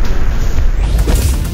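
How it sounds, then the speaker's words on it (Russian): An explosion in the game Katana Zero lands as a loud, close boom with a deep rumbling low end and a crackling burst, then keeps rolling under the game noise. "Взрыв."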